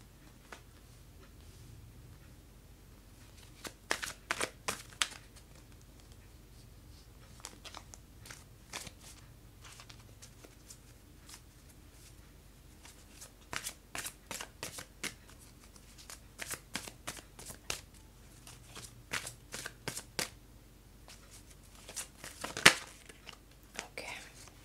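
Tarot cards being shuffled and drawn, with bursts of quiet riffling and soft flicking of the deck, close and low, separated by near-silent pauses and ending in a sharp crisp snap.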